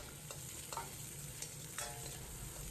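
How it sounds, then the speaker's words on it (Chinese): Aromatics stir-fry in a little hot oil in a wok, a faint steady sizzle with a few brief scraping clatters. "锅中放入1点底油，"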